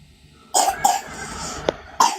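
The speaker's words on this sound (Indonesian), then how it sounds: "Malah batuk dia kan." Several harsh coughs burst out close to the microphone during a live online broadcast, with short gaps between them and a final loud cough near the end.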